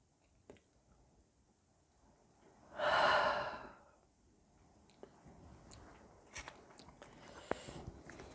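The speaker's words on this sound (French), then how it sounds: "là je me suis mise à bâiller" A woman gives a single drawn-out yawn lasting about a second, soft but close and rising clearly above quiet room tone, with small breaths and mouth clicks afterward.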